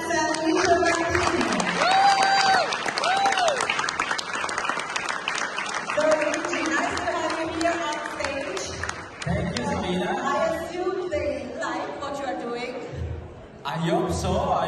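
Audience applause at the Ferrari Cavallino Classic event in Palm Beach: steady crowd clapping running throughout, moderately loud, mixed with chatter and amplified speech from a host.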